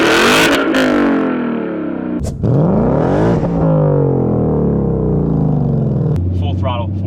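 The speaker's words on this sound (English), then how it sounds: "Full throttle, fourth gear. Not droning, not rattling, not vibrating." Ford Mustang engine at full throttle in fourth gear, heard from inside the car: a loud, sustained climbing roar with smooth rising pitch sweeps, a brief dip partway through, and voices speaking briefly over it.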